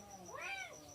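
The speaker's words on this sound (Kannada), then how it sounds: "ಸೊ ಬೆಕ್ಕು ಇಲ್ಲಿ ಹೊರಗೆ ಕೂತದ್ರಿ" A single soft meow from a house cat sitting outside a village kitchen, a brief rising-and-falling cry, faint and fairly close, with quiet insect chirping in the background.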